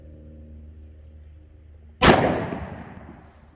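A single 10mm Hornady Critical Duty 175-grain round fired at a gel block 15 feet away. A low hum gives way to one sharp, loud report that decays in a short, ringing tail.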